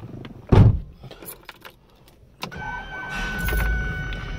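A Rolls-Royce Corniche with 18,000 miles is started after its door thuds shut; a short cranking burst gives way to a steady close idle with a whining tone over the running engine.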